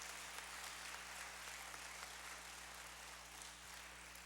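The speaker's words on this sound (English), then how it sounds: "give yourself a big round of applause for contributing to the success of our meeting today by being here" Faint, steady applause from a community meeting audience, a distant wash of clapping over a low hum.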